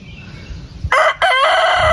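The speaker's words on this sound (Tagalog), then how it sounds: "Yung native chicken nila dito." A native rooster on a farm lets out a loud, close crow that starts sharply after a quiet rumble, breaks briefly, then carries on as a strained, held call.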